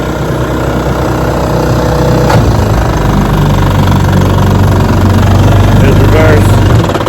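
A 1956 Gale Buccaneer outboard motor idles steadily after adjustment, a loud, close, continuous rough engine rumble with mechanical clatter throughout.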